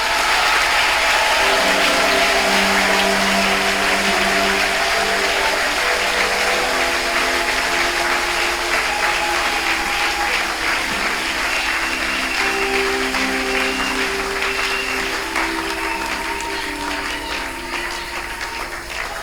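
A congregation at a French-language church service breaks into sustained, loud applause that continues for a long stretch in a dense, even clatter and tapers off slightly toward the end, with some voices and music tones underneath.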